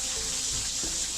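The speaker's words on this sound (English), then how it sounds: "There's nothing like a cold cave shower under a waterfall to wash off the mud, sweat, and exhaustion after days of exploring." Water pours steadily from a waterfall shower inside a cave, a continuous, fairly close broadband rush with no voices and no change in level across the moment.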